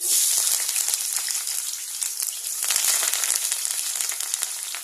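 Green chillies, onion and curry leaves fry in hot oil for an octopus curry, a steady close crackling sizzle with dense popping throughout.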